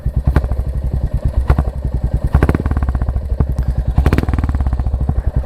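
A Royal Enfield Hunter 350 motorcycle engine with 17,000 km on it revs loudly with a rapid, lumpy exhaust beat, rising in several bursts before settling back to a rough idle, close up.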